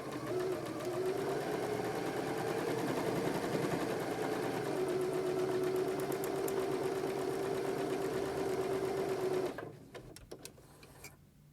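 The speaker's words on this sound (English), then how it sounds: "I'm going to stitch down that seam as I did before." A sewing machine runs steadily for about nine and a half seconds, stitching down a quilt seam with a continuous whirring drone, then stops abruptly, leaving faint clicks and handling noise.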